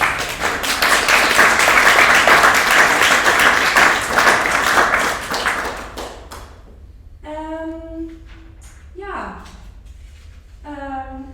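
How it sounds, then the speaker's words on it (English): Warm audience applause fills the first six seconds after the closing remarks of a conference, dense and steady, then fades away as a speaker resumes talking. "you deserve a very warm applause from us"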